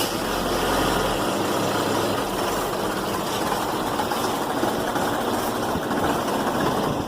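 A 2011 Chevy Equinox engine idles steadily and close up, with a constant low rumble and a running hum and no talk. It may have a fault in its intake and exhaust valve solenoids.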